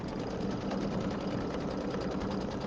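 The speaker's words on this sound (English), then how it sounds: "now we're going to stitch out our little present, and this is the quilting for the red blocks." An embroidery sewing machine runs with a small 5x7 hoop, stitching quilting lines for red table-runner blocks, giving a fast, steady, even mechanical whir, close and uninterrupted, with no voices.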